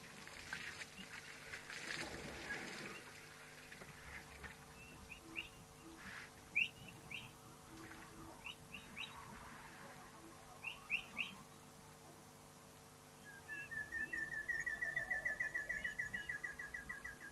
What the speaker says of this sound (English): I'm going to play this call of this dusky long-tailed cuckoo for you